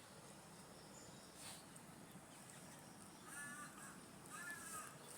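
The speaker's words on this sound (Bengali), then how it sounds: "কাকটা মনের সুখে ডাকতেছে।" A crow gives a few separate caws at moderate distance over a faint, continuous hum of insects or crickets, with quiet gaps between the calls.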